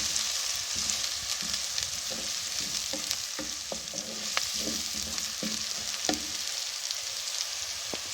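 Garlic sizzles steadily in oil in a pan while being fried for a potato dish, with a constant frying hiss and scattered soft stirring scrapes and clicks, close and fairly loud, with no talking.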